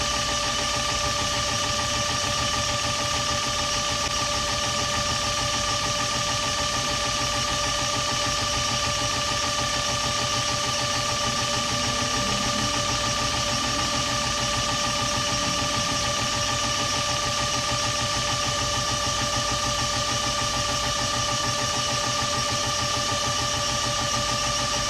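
A 6.7 Cummins diesel injector running on a Bosch EPS205 test bench: a steady, continuous mechanical hum with a fast rapid ticking pulse underneath, unchanging and loud throughout with no voices.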